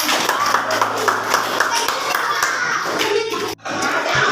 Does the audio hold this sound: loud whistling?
no